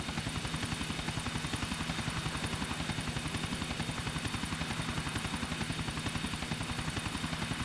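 A medevac helicopter comes in to land on a bridge in the video game GTA IV, its rotor thumping in a fast, even beat with a steady engine whine that holds throughout.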